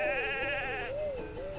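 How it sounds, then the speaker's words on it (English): Sheep bleating in the video game Miitopia, a single wavering, vibrato-laden bleat close and clear over a soft background music bed, tapering into a lower warble. "Look, a sheep!"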